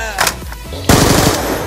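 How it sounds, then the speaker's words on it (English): Automatic gunfire in Call of Duty: Black Ops 2 Search and Destroy league play, a short burst followed by a longer rapid volley of shots, loud and close. "Don't shoot at me like that, Paris."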